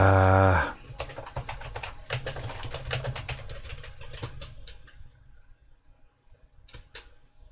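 Rapid typing on a computer keyboard, with bursts of irregular clicks following a short low hum, ending in a few sparse keystrokes over a faint fan-like background.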